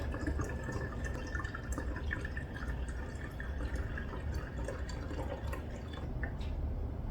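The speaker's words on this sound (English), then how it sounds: "So now I'm just gonna carefully pour it in here." Homemade almond milk trickles and drips steadily through a funnel into a container in a continuous soft liquid patter, close and quiet, with no talking.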